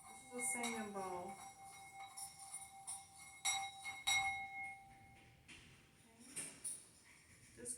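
A hand-held singing bowl rings with a sustained metallic tone among light clinks and handling noises, and a voice briefly sounds near the start.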